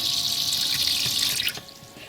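Water runs steadily from a tap into a small campervan sink, a close hissing splash that continues throughout and eases slightly near the end.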